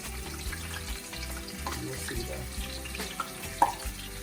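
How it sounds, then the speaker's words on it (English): Tofu fries in a pan for sweet and sour tofu, giving a steady broadband sizzle with a running-water quality throughout, punctuated by occasional light clinks and one sharp tick near the end. "Alright, so we're gonna fry them"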